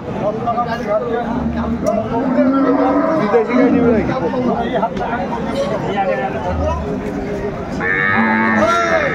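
Cows and calves low repeatedly at a busy cattle market in Aftabganj, Dinajpur, their moos rising over steady crowd chatter and nearby talking.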